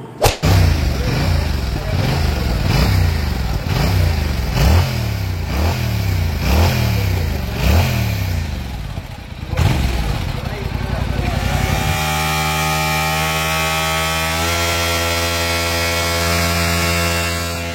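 A Yamaha MT-07 motorcycle engine cranks and fires with rhythmic revving pulses, then settles into a steady, loud idle up close.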